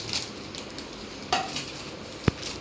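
A large metal plate, the kind used for offerings in a home celebration, clanks and rattles as it is handled, giving a few sharp, close metallic knocks against a quiet room.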